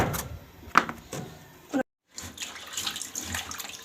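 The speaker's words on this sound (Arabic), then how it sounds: "بغسل مواعين اهو" Tap water running in a kitchen sink while dishes are washed, with intermittent splashing and clinks, a brief silent gap midway, then the stream resuming at moderate level, close by.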